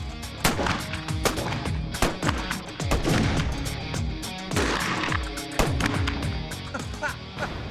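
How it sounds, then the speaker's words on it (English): Gunslingers shoot at a collection of cowboy hats. Many sharp, loud shots crack in quick, irregular succession over a continuous background. "our gunslingers take pot shots at their whole hat collection"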